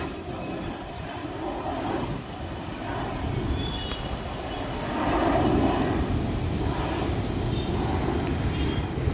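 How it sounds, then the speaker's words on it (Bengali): An IndiGo airplane takes off at Dum Dum Airport in Kolkata, its steady jet engine roar rising a little in the middle and carrying on without pause, heard from a distance through the whole stretch. "দেখতে পাচ্ছেন জাহাজ উঠছে যে ইন্ডিগো এই জাহাজটা হচ্ছে ইন্ডিগো জাহাজ"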